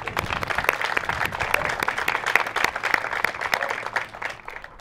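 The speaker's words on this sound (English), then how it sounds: "Let's give them all a big round of applause." An audience at a home wall-raising event applauds, many hands clapping in a sustained, fairly loud burst that tapers slightly at the end.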